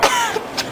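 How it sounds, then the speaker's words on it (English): A short, close cough linked to a common cold: one raspy burst and a fainter second catch, lasting under a second. "For a cough?"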